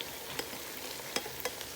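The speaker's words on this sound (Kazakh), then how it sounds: "Және бұны да сәл слегка қызарғанша қуырып аламыз." Onion and Chinese cabbage fry in an open pot, a soft steady sizzle with occasional brief stirring scrapes, alone without talk.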